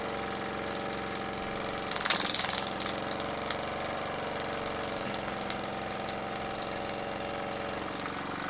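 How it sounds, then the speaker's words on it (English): A model Hercules steam engine runs on a steam test with a fast, even mechanical chuffing and rattle close up, steady throughout with a brief louder hiss partway. "but other than that, it's running quite smoothly."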